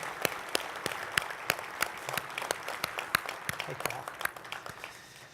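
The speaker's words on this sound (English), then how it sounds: "Please, a round of applause for the leaders of our sea services." Audience applause for the sea service chiefs at a naval conference luncheon town hall, scattered individual claps standing out over a thinner crowd clapping, with some voices mixed in.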